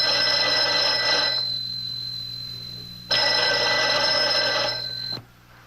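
A telephone bell rings in two long bursts separated by a pause, loud and close, with a steady low hum underneath.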